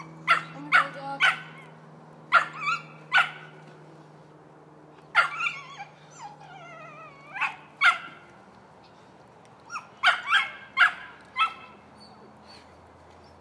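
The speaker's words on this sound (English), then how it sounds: "Be quiet, puppy!" A puppy barking in short, sharp bursts, several quick yips in clusters with pauses between, close and fairly loud against a quiet background.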